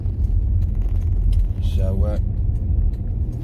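A Jaguar XJ8 X350 with a V8 accelerates gently onto the motorway, a steady low cabin drone and road rumble building evenly, with someone briefly speaking over it.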